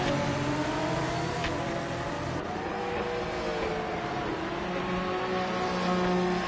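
An Aston Martin GT race car slides slightly on the track at the Sao Paulo championship round, its engine roaring loud and steady with a constant droning whine and a slight shift in pitch partway through.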